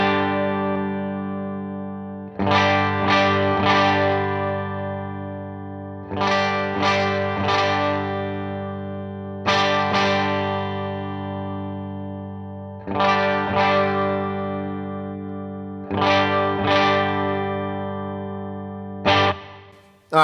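Electric guitar through a Headrush pedalboard's speaker breakup emulation, struck chords ringing out in clusters of quick strums with long sustained decays, clear and alone.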